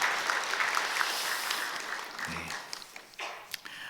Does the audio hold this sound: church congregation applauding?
yes